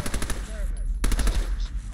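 A submachine gun fires in Fallout 4 in rapid, evenly spaced bursts that rattle loudly and up close, pausing briefly midway before the fast stream of shots resumes.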